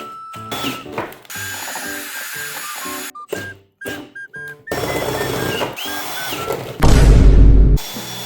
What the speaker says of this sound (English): come in with this small drill and then come in with this big dog